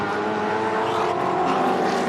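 Trans Am-style race cars, a 1969 Chevy Camaro and a 1969 Boss Mustang among them, roar past on a racing circuit. Their dense, loud engine noise is continuous and broadband, with no clear speech over it.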